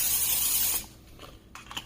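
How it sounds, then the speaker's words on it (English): A quick burst of oil spray over popcorn chicken in a cast iron skillet, a loud airy hiss lasting under a second, then quiet handling rustles. "And then I give it a quick spray with some oil."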